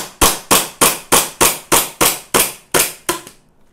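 A spring-modified BB gun set up for IPSC Open Division fires nine sharp, loud shots in rapid, evenly timed succession, close by and with no talk, ending in a short fading tail.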